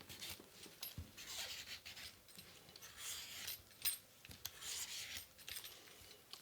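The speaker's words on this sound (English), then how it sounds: "I'm going to take a peeler and I'm just going to start peeling" A vegetable is peeled with a hand peeler in soft repeated scraping strokes, close but very quiet, with no voices.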